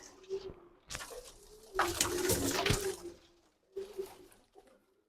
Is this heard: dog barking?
no